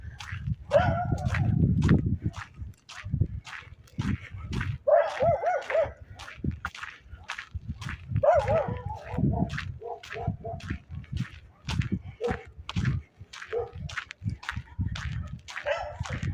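Several dogs bark and yip on an outdoor walk, repeated sharp barks in a rapid uneven rhythm mixed with whimpers, fairly close and continuous for the whole stretch.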